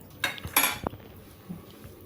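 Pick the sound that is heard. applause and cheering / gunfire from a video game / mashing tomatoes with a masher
mashing tomatoes with a masher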